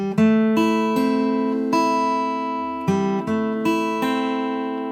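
Guitar in standard tuning plays the opening melody line of a Minecraft tune, clear plucked notes ringing over one another in a slow repeating phrase, close and alone with no talk.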